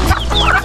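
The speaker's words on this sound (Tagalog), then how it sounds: "Yung aking native na rooster." A native rooster gives a short burst of clucks, close and loud, lasting under a second.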